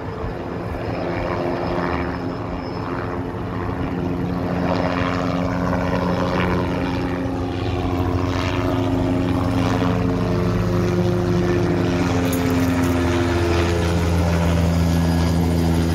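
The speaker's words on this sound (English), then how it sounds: "watching choppers take off, waiting for the F-35." A helicopter's steady rotor thrum and engine whine as it takes off at the Adelaide 500 motor race, loud and continuous, with other aircraft noise rising around it.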